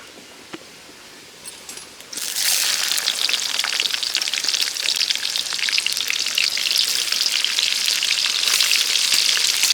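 Onions drop into hot oil for a Telangana-style village chicken curry. After a quiet start they burst into a loud, continuous close sizzle that crackles on without pause and without talking.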